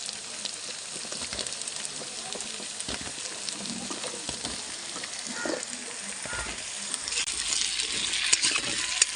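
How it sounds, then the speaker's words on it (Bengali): Potatoes fry with onions in a pan, giving a steady, quiet sizzle with occasional clinks and scraping from stirring, close and fairly faint, with no talk. "আলুগুলো দিয়ে দিয়েছি, দিয়ে এবারে পেঁয়াজের সাথে ভালো করে ভেজে নেবো আমি আলুগুলো।"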